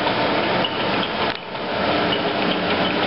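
A 1982 Broadbent BL16HSK oil country lathe with a 16 3/8 inch spindle bore and dual 4-jaw chucks runs at 40 RPM in high gear, giving a steady, dense mechanical drone with a brief dip in the middle, close and without talk.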